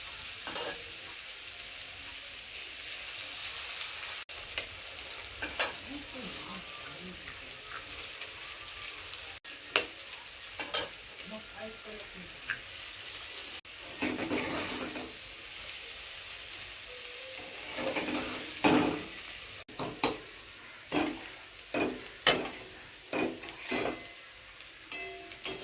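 Egg frying in oil in a pan while a spatula stirs and scrapes it, a soft continuous sizzle broken by sharp scraping strokes that grow more frequent toward the end, with no voices.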